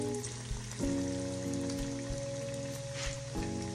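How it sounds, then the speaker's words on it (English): Breaded chicken fries in hot avocado oil in a pan, giving a steady crackling sizzle with dense popping close by, while a low tonal hum continues underneath and no one speaks. "I used avocado oil and I fry them until they're golden brown."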